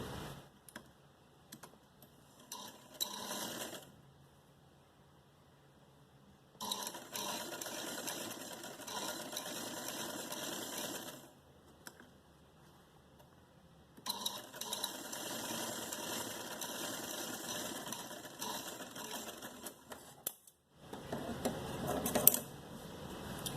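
A sewing machine stitches a short frock in several bursts of rapid, rattling clatter, each running a few seconds and separated by near-silent pauses, close and fairly clear.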